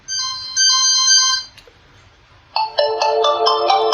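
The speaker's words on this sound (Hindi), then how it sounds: "रिंग काफ़ी तेज़ है क्योंकि बैक के ऊपर स्पीकर काफ़ी बड़ा दिया गया है" A QMobile E1000 phone rings at full volume through its large rear speaker, a loud, bright electronic tone pattern playing in two bursts separated by a short pause, with nothing else over it.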